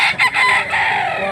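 A rooster crows once, loud and close, a full cock-a-doodle-doo with a strained, rising call that holds steady to the end, heard at a gamefowl sale in Mantalungon, Cebu.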